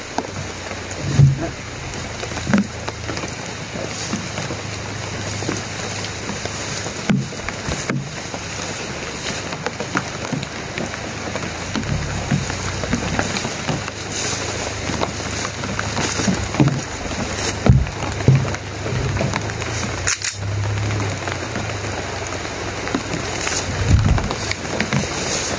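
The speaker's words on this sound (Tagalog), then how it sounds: "sobrang lakas po ng ulan mga tol" Heavy rain pours down steadily and continuously, a dense wash of noise with occasional louder knocks and a low hum underneath, no talking.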